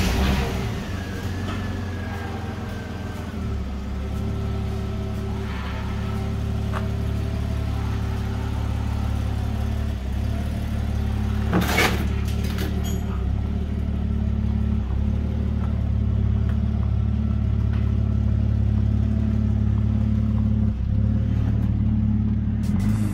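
Engine of an EL/EF Ford Falcon left sitting in a paddock, idling and pulling away with a steady, loud low rumble and whirring drone that persists throughout, with slight revving and no talk.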